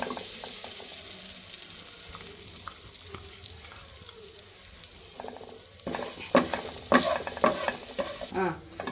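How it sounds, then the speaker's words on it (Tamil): Poppy seeds, cumin and spices frying in oil for a crab curry, a soft steady sizzle with stirring clatter that grows busier and louder toward the end, close by. "இந்த மாதிரி நல்லா எண்ணெய் விட்டு வறுத்துட்டு"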